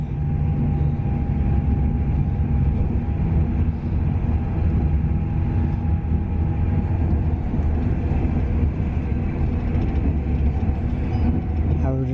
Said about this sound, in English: That's a 360 going to Corby.